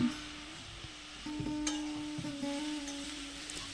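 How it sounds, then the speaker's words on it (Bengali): Bottle gourd greens and fried potatoes sizzle softly in a pan while being stirred, with occasional scraping and a steady low hum in the background. "আলুর সঙ্গে শাকটা 2-3 মিনিট মতো নেড়ে নিয়েছি"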